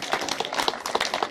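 An outdoor summer-event audience claps in quick, uneven applause for about a second and a half. It sounds close and busy, with many hands overlapping.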